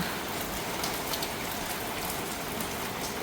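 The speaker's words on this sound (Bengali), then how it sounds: "বৃষ্টি হচ্ছে চলো তো দেখি" Steady rain falls continuously, a dense even hiss with soft patters on surfaces, no voices.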